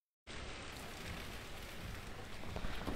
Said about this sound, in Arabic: أمطار غزيرة في هذه الأثناء